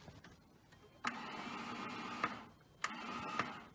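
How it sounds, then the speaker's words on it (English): A failing truck starter motor cranks in steady whirring bursts, each opening with a sharp click. Two attempts spin without the engine catching, fairly quiet and without voices. "Sounds like your starter's junk to me."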